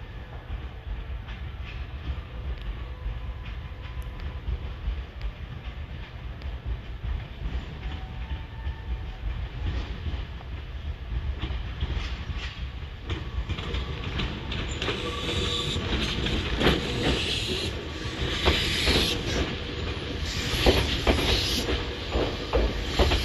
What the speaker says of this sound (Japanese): もう一本電車が来ましたね。 どうやら特急列車のようです。